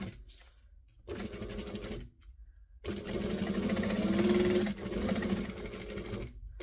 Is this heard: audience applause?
no